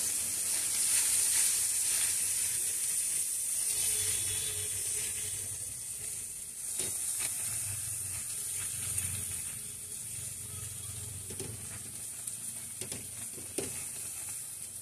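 Chili and turmeric powder with other ground spices frying in oil in a pan for a hilsa fish and taro stolon curry, a steady close sizzle with occasional stirring scrapes and clinks throughout.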